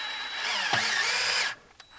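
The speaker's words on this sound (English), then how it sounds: "I got a drill here with a tool that's actually meant to engage the oil pump" A power drill drives the oil pump on a crushed, long-stored Dodge Charger engine, whirring loudly with a slight drop in pitch, then cutting off abruptly, followed by faint mechanical clicks.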